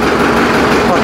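A 4WD tractor for sale idles steadily, a loud, close, even engine rumble lasting only a moment, with someone talking over it.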